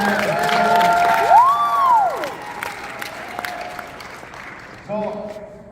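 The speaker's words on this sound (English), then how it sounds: "So give them a round of applause" An audience claps and cheers for company founders at a product launch event, moderate applause with whoops that fades under a speaker's voice.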